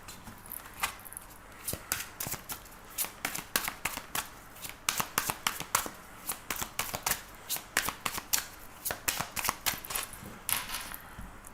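Tarot cards being shuffled by hand, a long run of crisp riffling flicks and soft slaps in irregular bursts, close and clear in a quiet room.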